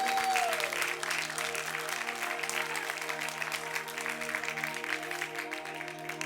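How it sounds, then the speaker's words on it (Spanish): Church congregation applauding together during a sermon, a steady dense wash of clapping that holds at full strength for about six seconds with a low sustained organ or keyboard tone underneath. "Den un fuerte aplauso al Rey de Reyes."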